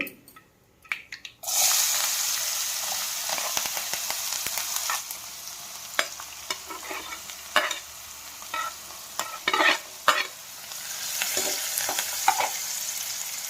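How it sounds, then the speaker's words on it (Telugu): Onions, green chilies, garlic, dried red chilies and curry leaves hit a hot pan for an Andhra-style beans fry, bursting into a loud close sizzle with scraping stirs and intermittent spattering pops throughout. "మనం తీసుకున్న ఉల్లిపాయలు పచ్చిమిర్చి ఎల్లుల్లిపాయలు ఎండుమిరపకాయలు కరివేపాకు ఇవి యాడ్ చేద్దాం ఇప్పుడు"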